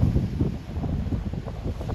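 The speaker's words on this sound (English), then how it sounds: "you guys can hear the noise. It's the wind." Wind buffeting a microphone outdoors, a steady low rumble with gusting swells throughout, loud and close, while a dog grazes on grass nearby.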